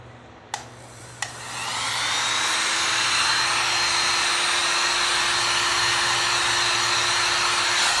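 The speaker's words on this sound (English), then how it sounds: "Heat gun." A heat gun blows with a steady, loud whirring hiss for several seconds while working on a red and white acrylic pen, with two brief clicks as it switches on.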